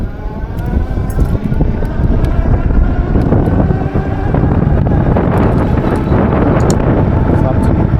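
An Engwe Engine Pro 2.0 folding e-bike rides on throttle alone, with heavy wind buffeting the microphone almost continuously throughout.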